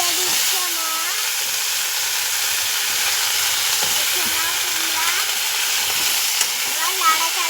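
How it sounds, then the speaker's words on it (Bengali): Bottle gourd stems and potatoes fry in a pan for a cumin-flavoured curry, giving a steady broad hiss and sizzle throughout, close and continuous, with a faint voice in the background. "এখন লাউ খাড়া ও আলু দিয়ে দিচ্ছে মা।"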